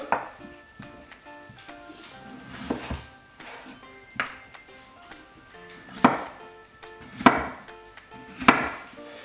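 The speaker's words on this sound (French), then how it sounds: "Coupez les pommes de terre en gros cubes." Knife chopping potatoes into large cubes on a cutting board in a home kitchen, a series of sharp, near, irregularly spaced chops that grow louder toward the end, with no talking.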